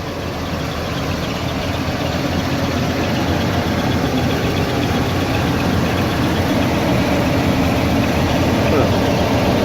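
A 1984 GMC 1500 C pickup truck's engine idles after a cold start, a steady, loud low rumble that holds evenly throughout with constant mechanical drone.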